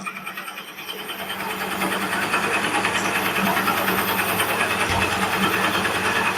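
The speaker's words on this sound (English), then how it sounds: "So I got it in my chuck, and I'm gonna drill down, run about 300 RPMs." A bit held in a chuck drills down into a workpiece at about 300 RPM, producing a steady, continuous mechanical whir and grinding hum that holds at an even level and runs close by for several seconds.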